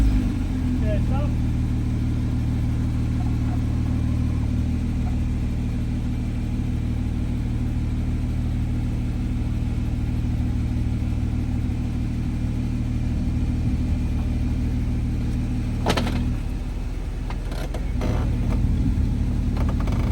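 Jeep engine rumbles steadily while driving through flooded Kane Creek, a continuous low idle-to-crawl drone with faint splashing and a brief disturbance near the end, under occasional voices.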